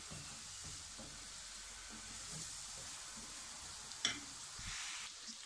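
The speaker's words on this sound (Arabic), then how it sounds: "غادي نشحر هاد البصيله هادي، وغادي نزيد هي والثومه تشحروا ليا مزيان." Onion and garlic frying in a pan, a soft continuous sizzle and hiss with faint stirring taps and one brief sharper knock, quiet and close with no voices.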